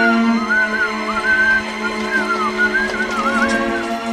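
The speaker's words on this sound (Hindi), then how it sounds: "तू सीटी बजा रहा है" A person whistles a wavering melodic tune of several gliding phrases over a steady tonal background, clear and fairly close.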